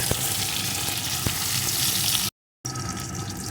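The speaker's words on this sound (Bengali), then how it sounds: "শুধু মাত্র তেলেই লাল লাল করে ভেজে নেব" Eggplant pieces fry in hot oil with a dense, steady crackling sizzle, close and fairly loud, broken by a couple of sharper pops and cut off briefly before the sizzling resumes.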